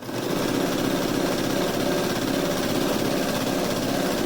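A serger stitches clear elastic onto fabric briefs, a loud continuous mechanical whir with rapid chattering at a steady pace, close up and without speech.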